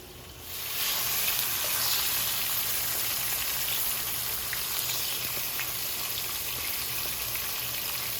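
Fish frying in a pan of oil for a stuffed bitter melon dish with shrimp, a steady close sizzle and crackle that swells after a quiet start and holds evenly, with no talk over it.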